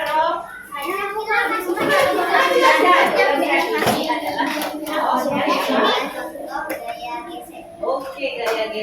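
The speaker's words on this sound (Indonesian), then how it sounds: "tepuk tangan dulu" Hands clapping in a lively classroom, with children's voices chattering and calling out over the continuous applause.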